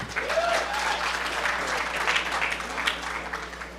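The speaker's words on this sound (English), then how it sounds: "Applause, please" An audience at a hacker conference talk applauds, a steady, fairly loud wave of clapping with a brief cheer near the start.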